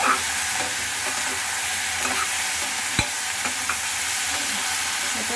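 Ginger and tomato with salt sauté in a pan for chutney, a loud, steady frying hiss that runs throughout, dotted with faint stirring taps and one sharp knock near the middle.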